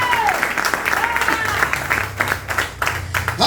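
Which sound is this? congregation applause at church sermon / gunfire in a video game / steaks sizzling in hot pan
congregation applause at church sermon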